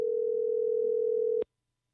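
A single steady telephone tone, clean and fairly quiet, holds unbroken for about a second and a half during a call, then cuts off abruptly into silence.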